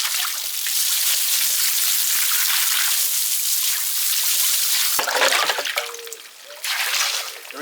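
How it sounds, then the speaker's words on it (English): Water from a cleaned-out cottage garden relic draining away into a gully and drain outdoors, a continuous rushing trickle with splashing that grows busier and more turbulent midway. "There is a gully and a drain behind me, so all this water is draining away."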